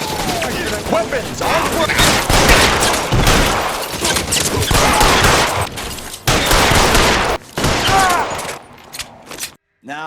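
Rapid gunfire from a shootout in L.A. Noire, dense volleys of shots crowding nearly the whole stretch, loud and continuous with brief gaps toward the end, while voices shout over the battle.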